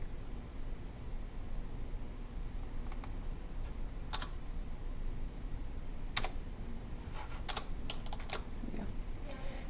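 Excel formula being typed on a computer keyboard, sparse scattered keystrokes in short bursts, faint and close over a steady hiss of background noise.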